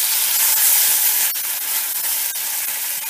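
Masala paste hits hot onions in a pan and sizzles with a loud, steady hiss that carries on without a break, with a few faint crackles through it.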